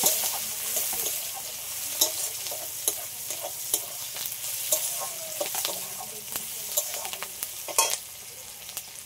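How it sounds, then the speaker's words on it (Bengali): Chopped onions fry in hot oil tempered with black cumin, a continuous sizzle broken by scraping stirs and clinks of the spatula against the pan, close and fairly loud. "পেঁয়াজটা একটু হালকা করে ভেজে নিয়েছি"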